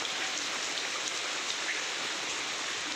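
Steady, even hiss of rain falling on surfaces, continuous and fairly soft with no voices.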